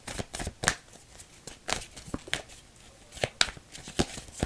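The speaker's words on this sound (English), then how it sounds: "This might be something I have to shuffle." Tarot cards are being shuffled by hand in quick, uneven bursts of sharp riffling snaps and soft slides, close and fairly quiet, with no talking.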